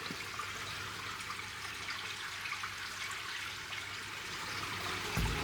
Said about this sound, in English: It's literally a river, a babbling brook running underneath where we're staying.